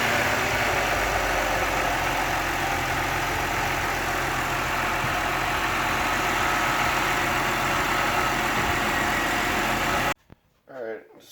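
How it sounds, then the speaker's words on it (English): A 2011 BMW 328i engine idling steadily after a serpentine belt tensioner replacement, a loud, even running hum that cuts off near the end, leaving a brief quiet moment with faint sounds. "So now we're gonna start the engine, let it run, and we'll watch it."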